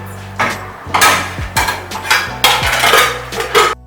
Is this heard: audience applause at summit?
no